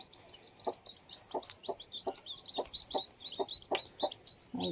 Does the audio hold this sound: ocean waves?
no